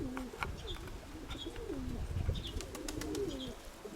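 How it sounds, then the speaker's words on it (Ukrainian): A pigeon coos in a repeated rolling pattern, several close, clear phrases over a low background rumble, with a few faint chirps from other birds and no talk. "Ось цей голуб, за якого, як його назвати, може підкажете."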